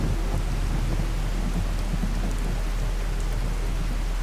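Steady pouring rain and low rumbling thunder from a rad storm in Fallout 4 fill the air as an unbroken, loud wash of noise.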